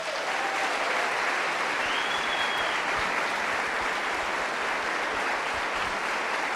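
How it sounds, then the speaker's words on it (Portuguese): A church congregation gives the Lord a loud, sustained round of applause, many hands clapping in a thick, steady roar that fills the room without letup, with faint voices mixed in. "Would you give the Lord a big clap offering?"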